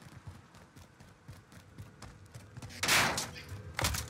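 Gunfire in the online shooter Warzone, a few loud bursts of shots standing out near the end over softer game noise and footsteps.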